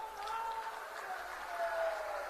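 Applause from an audience at an outdoor political rally in Madhupur, Jharkhand, a steady wash of clapping lasting throughout at a fair distance.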